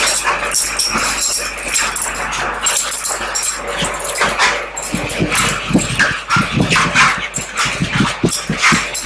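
Several dogs bark, yip and whimper together at close range, a dense, continuous chorus with sharp bursts throughout and no talk.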